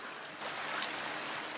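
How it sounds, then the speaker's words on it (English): A river flows strongly past a deer camp, a steady broadband wash of moving water heard from the bank, continuous and fairly soft with no voices. "Well, we made it to the river. The water's flowing pretty good out there."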